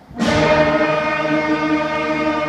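A sixth grade school band sounds one sustained, lower wind-instrument note together, a full rich tone entering abruptly and holding steady and loud.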